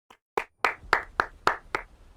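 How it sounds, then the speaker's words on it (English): Several distinct hand claps ring out one after another at an even, slightly quickening pace, crisp and close against near silence, six or seven sharp slaps in all. "Nope, that's enough clapping."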